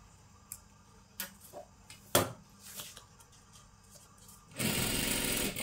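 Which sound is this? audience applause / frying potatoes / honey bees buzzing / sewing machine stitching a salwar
sewing machine stitching a salwar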